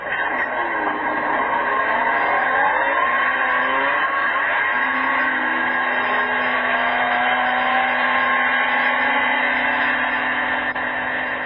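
A late-1970s Arctic Cat Pantera snowmobile engine runs hard on a dyno, a loud, steady sustained roar with a rising tone partway through, holding continuously with no talk.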